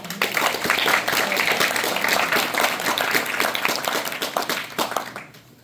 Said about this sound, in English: round of applause for you ladies